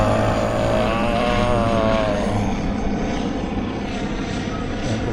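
An airplane passes overhead, a loud, continuous roaring engine drone that fills the whole stretch evenly and stays strong throughout, with no talking over it.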